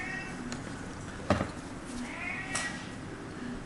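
A pet cat named Ash gives a couple of short, faint meows against low room noise during a home cardio workout, with one sharper sound standing out briefly.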